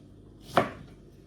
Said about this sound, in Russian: Хотите режьте, хотите сразу вдоль поделите на полоски тоненькие, потом поперек режьте.